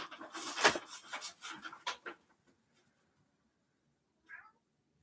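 A cat playing in a paper bag meows amid loud crinkling rustles, then falls quiet before one short, faint meow follows.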